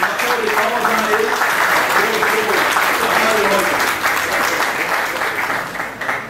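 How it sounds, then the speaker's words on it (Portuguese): Sustained audience applause for a honoree at a civil defense natural disaster prevention event in Tubarão, dense steady clapping throughout with faint voices underneath. "Uma salva de palmas a ele."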